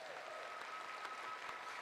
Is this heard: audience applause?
yes